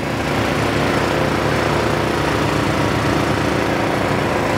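A three-rotor rotary engine with big boost, fitted in a newer Mazda Miata, runs loud and close in a dense, continuous buzzing drone that holds steady without pauses.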